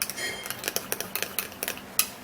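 A spoon stirs baking powder into a turmeric face-mask mixture in a small bowl, making quick close clinks and taps in an uneven rhythm.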